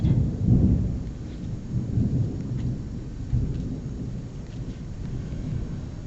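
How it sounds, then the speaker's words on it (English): Low rumbling thunder rolls outdoors during a storm, swelling and fading in broad, deep surges over about six seconds at moderate distance, with no other sounds prominent. "Ooh, we got some thunder outside."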